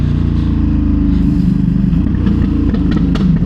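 A Ducati motorcycle engine drones and pulls steadily through low to mid revs, loud and close, with slight wind rush and no voices.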